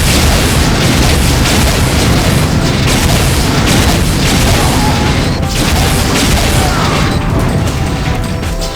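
Rockets from the 8-ball launcher in the Unreal multiplayer game explode in a loud, dense, continuous roar of blasts and crashing debris with no pause.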